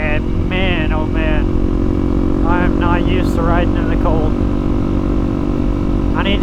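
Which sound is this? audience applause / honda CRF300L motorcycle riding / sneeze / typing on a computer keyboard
honda CRF300L motorcycle riding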